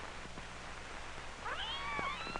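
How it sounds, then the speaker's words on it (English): A baby kitten mews faintly twice in a quiet room, high thin rising calls in the second half over low background hiss, with no talking. "Mary Ann sees the kitten."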